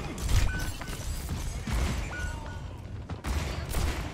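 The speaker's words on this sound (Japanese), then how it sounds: "これウィドウの銃声って聞こえてんのかな。" Gunfire rattles through a busy Overwatch 2 match against a Widowmaker, with repeated sharp shots and impacts packed closely together in a loud, dense game mix.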